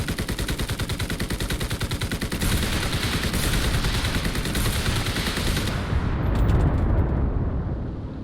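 P-38 fighter plane strafing in the Enlisted combat game, with rapid, continuous machine-gun fire and rocket blasts that build into a dense, loud, steady barrage before cutting out abruptly.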